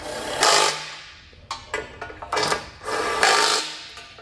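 A power tool snugs factory flange nuts onto the bumper beam of a 2021 Tesla Model during a hitch install, whirring in several short close bursts separated by brief pauses.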